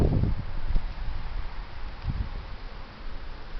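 Heavy wind gusts outdoors with leaves rustling and scattering, a broad windy hiss with a couple of low buffeting bursts, moderately loud and without talk.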